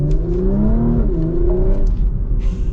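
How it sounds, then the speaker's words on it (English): A 2025 Porsche Macan GTS engine revs hard toward redline, its rising pitch sweeping upward in a loud, close, continuous pull, then easing and climbing again near the end, with no voices. "you take it all the way up to, or close to redline, and it really rips"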